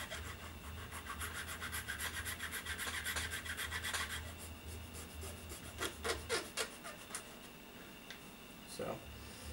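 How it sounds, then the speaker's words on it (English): Hand sanding of small model tubing for N scale signals: a steady, close, raspy rubbing that goes on for several seconds, then gives way to lighter scattered scrapes and ticks. "you could kind of sand that tubing down a little bit, too, to kind of match"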